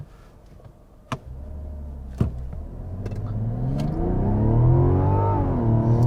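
A 2024 Mazda CX-90 SUV with an 8-speed automatic launching for a 0-60 run on a level surface: a couple of sharp clicks, then engine drone rising steadily in pitch and loudness through smooth upshifts, heard from inside the cabin.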